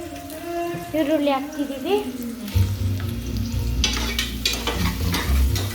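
Onions are tipped into hot oil and mixed in a pan for chicken sambar, setting off a loud, steady sizzle with scraping stirs. A voice sounds faintly at the start, and a low hum rises underneath partway through.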